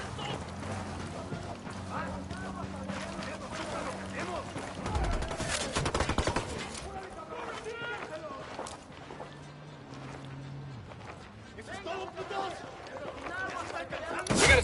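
Gunfire in Ghost Recon Wildlands, a cluster of sharp shots bunched around the middle over ongoing game ambience, with scattered reports before and after and voices speaking at times.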